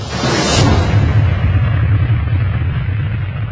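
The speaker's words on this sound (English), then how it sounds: "In battles there are explosions, big explosions." A loud, continuous rumbling explosion with a deep roar and a whooshing burst near the start, sustained and close throughout.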